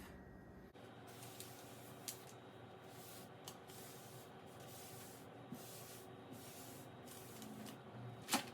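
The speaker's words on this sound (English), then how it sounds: "you're just going to rub it down to get any excess of the board butter off" A cloth rubs excess board butter off a wooden cutting board, quiet repeated swishing strokes up close with a few small knocks and no talking.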